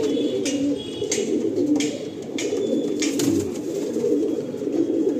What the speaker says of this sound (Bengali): এই মালবাই পায়রা আছে